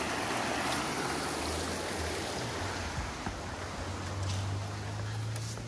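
Water rushes steadily through an old water mill in Kobayat, a dense, continuous roar that holds close and loud for the whole stretch with no voices over it.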